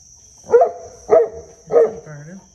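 Great Pyrenees barking an alert at a bird of prey near a barnyard, three deep, loud, close barks spaced evenly about half a second apart, ending with a soft low whine.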